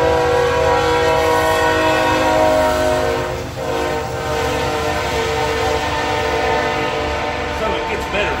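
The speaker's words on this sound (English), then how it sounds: "And there's always a fucking train." A train rolls steadily past at close range with a long, loud horn blast holding through nearly the whole stretch over the constant rumble of the cars.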